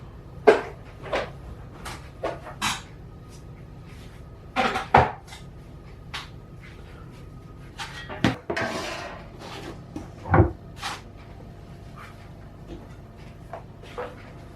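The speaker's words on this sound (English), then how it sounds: "I'm gonna get a cutting board and we'll cut it in half" Clunks and clatter as a cutting board is fetched and hot sourdough naan, fresh from the oven, is cut in half: scattered sharp knocks and scrapes at close range, loudest near the middle and toward the end, with no voices.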